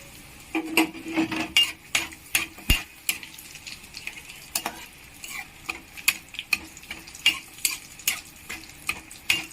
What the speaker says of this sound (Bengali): এইভাবে লাল লাল করে ভেজে নিতে হবে